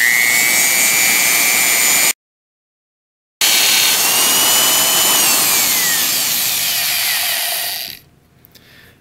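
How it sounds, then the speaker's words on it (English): Power drill boring holes in the metal frame of a Fairmont MT19A railway motorcar, a loud steady whine that cuts out briefly, resumes, then stops near the end. "Go ahead and drill the holes."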